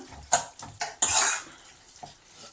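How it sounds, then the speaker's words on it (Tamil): A ladle mashes tomatoes in a cooking pot for tomato thokku, making several sharp metallic clanks and scrapes against the pot in quick bursts, close and fairly loud, with no voices. "நம்மளும் கரண்டியை வச்சு ஒரு தடவை நல்லா அப்படியே தக்காளியெல்லாம் மசிச்சு விட்டுக்கலாம்"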